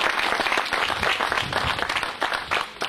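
A crowd claps steadily in tribute to Sully, a late stonemason, with dense, sustained applause that carries on without a break for about three seconds.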